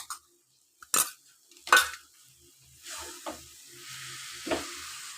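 Powdered milk being stirred into a coconut mixture in a pan for coconut laddoos, with a few scraping stirs and soft clinks of utensil against the pan over a faint sizzle, and no talk.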